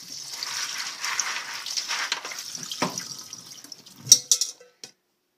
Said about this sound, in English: I'm going to rinse them briefly.